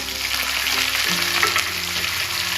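Mustard seeds, green chillies and curry leaves crackle and sizzle in hot oil for a tadka, a loud, continuous frying hiss heard close up with a low hum beneath.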